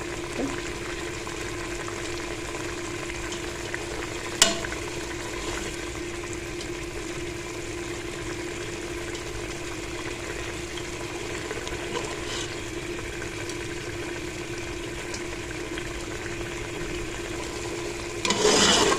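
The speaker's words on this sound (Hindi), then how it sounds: "और अब हमने इसको अच्छे से भून लेना है। इसका ये जो पानी रह गया इसमें, ये बिल्कुल ड्राई कर देना है।" Tomatoes fry steadily in a pan for kachnar gosht, giving a continuous even sizzle throughout, with a single sharp clink partway through and a brief louder stir near the end.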